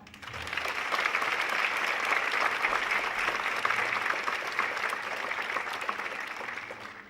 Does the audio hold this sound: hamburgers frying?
no